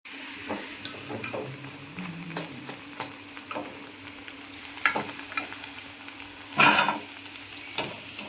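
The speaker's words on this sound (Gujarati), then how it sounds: "આવી રીતે આપણે બધા મુઠિયા તળી લેશું" Muthiya dough balls fry in oil over a low flame with a soft, low sizzle, broken by scattered clicks and scrapes of stirring and one louder rattling clatter near the end.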